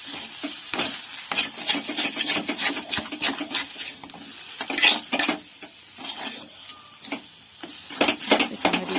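Chopped coriander leaves are stirred into an egg chop filling, giving close, continuous scraping and rubbing sounds of a spoon working the mixture in a pan, with uneven bursts and no talking.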